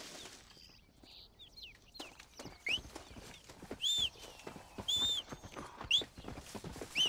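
Horse hooves clop in the Red Dead Redemption video game, an irregular run of mid-close hoofbeats growing louder, with birds chirping now and then over the outdoor ambience.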